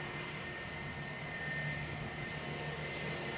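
A Jetstar jet airliner taxis past on an airfield taxiway, its engines giving off a steady, broad roar with a high whine on top, sustained and fairly close throughout, without speech.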